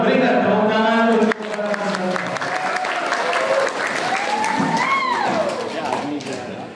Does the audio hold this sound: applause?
yes